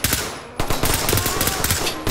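Automatic gunfire in the video game Ready or Not, a loud, close, rapid burst that breaks briefly and then resumes hard, filling the whole moment.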